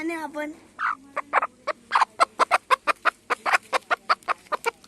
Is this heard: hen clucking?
yes